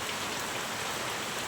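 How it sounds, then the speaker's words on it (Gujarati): Rain falls steadily outside as a dense, even hiss of drops that stays constant throughout, with no voices. "બહાર મિત્રો વરસાદ પણ આવે છે"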